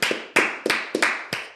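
A voice imitates clapping while retelling a party story, producing six sharp, close claps in an irregular rhythm over about a second and a half.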